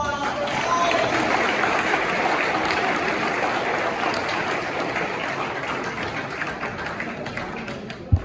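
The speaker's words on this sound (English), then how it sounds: "Let's give a big round of applause for all of you." An awards-ceremony audience at the Liberia Development Awards gives a sustained round of applause, dense even clapping from a large crowd, with a faint voice or two under it and a sharp knock at the end.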